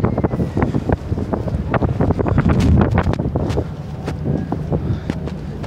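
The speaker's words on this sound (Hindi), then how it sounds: "हवा चल रही है" Seaside wind at the Üsküdar waterfront in Istanbul, where people sit fishing and pigeons gather, gusting hard against the microphone in steady rumbling buffets with sharp bursts throughout, no voices.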